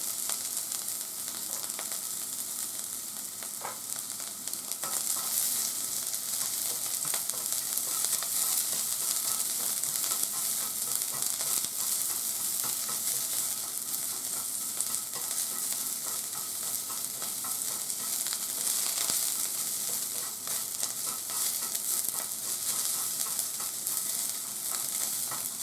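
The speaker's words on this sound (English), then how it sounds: "you put carrot, and stir the carrot." Carrots being stir-fried in a pan for a hijiki natto dish give a steady, close sizzle with occasional stirring scrapes, continuous throughout with no talking.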